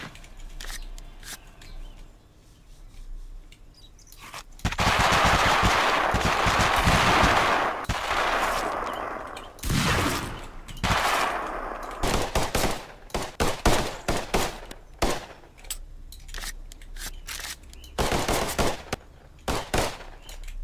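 Gunfire in the zombie battle game Totally Accurate Battle Zombielator, a dense burst of rapid shots followed by scattered crackling volleys and separate sharp reports, loud and close with no speech.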